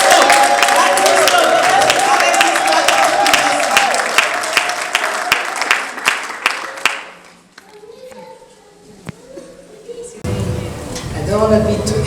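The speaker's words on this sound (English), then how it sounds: "let us clap our hands, we encourage her. Let us clap, Don't stop." A graduation audience for a sewing and knitting course claps hands in a dense, lively burst for several seconds, with voices mixed in, then fades to quieter talk before a louder stretch of voices returns.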